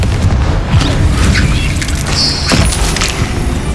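Confringo blasting spell in Hogwarts Legacy, a loud, sustained explosive boom with heavy low rumble and crackling debris, continuous from start to finish with no talk.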